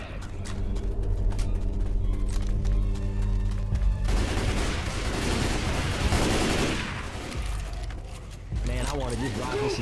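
Sustained gunfire in the video game Left 4 Dead, dense bursts of shots running loud and continuous under overlapping game sounds and voices.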